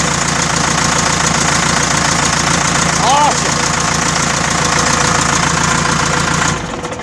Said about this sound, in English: It's a good running engine.